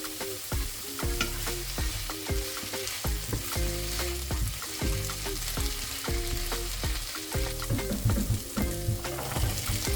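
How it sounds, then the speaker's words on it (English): Carrots frying in a pan for fried rice, a steady close sizzle with repeated stirring scrapes and clinks of a utensil against the pan throughout. "So I'm cooking the carrot for about 3 to 4 minutes until it's starting to be soft."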